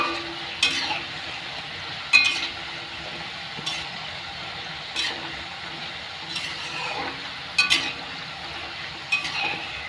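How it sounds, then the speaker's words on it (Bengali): Nimki fry in oil over a medium gas flame, with a soft, steady sizzle broken by sharp metal clinks of a utensil against the pan every second or two. "রেখে নিমকিগুলো ভেজে নিতে হবে।"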